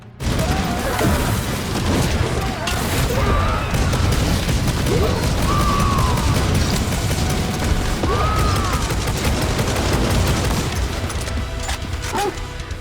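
Gunfire in the shooter game Necromunda: Hired Gun: dense, continuous volleys of shots and heavy booms, loud and unbroken throughout, over a busy background bed.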